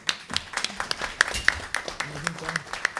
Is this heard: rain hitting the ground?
no